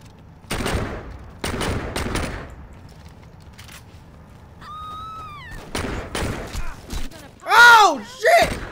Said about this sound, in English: stop shooting me, man!